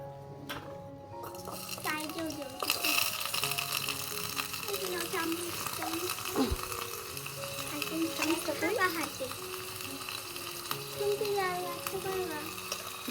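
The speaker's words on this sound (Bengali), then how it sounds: "আলুটা একটু ভেজে নাও সুন্দর করে" Potato pieces fry in a pan in a miniature kitchen while beef tehari is cooked, giving a steady sizzle under a voice and tonal background sounds.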